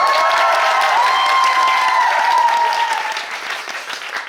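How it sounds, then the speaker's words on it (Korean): A large theatre audience at a musical's first-performance stage greeting claps loudly and steadily, a dense wash of applause that tapers off toward the end. "여러분 저 박수 한 번만 더 쳐주시면 안 돼요?"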